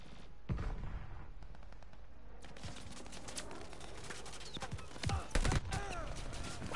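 Bursts of gunfire in the Call of Duty Vanguard video game, sharp shots scattered through a dense battle mix with a cluster of louder, closer shots near the end.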